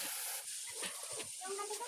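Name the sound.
shrimp paste (alamang) sizzling in cooking oil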